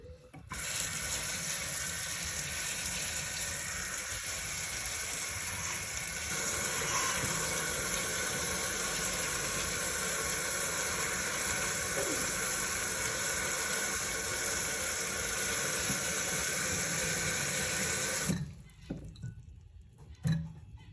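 Running tap water rinsing soybean sprouts, a steady close hiss and splash for about eighteen seconds that cuts off abruptly, followed by a few faint drips.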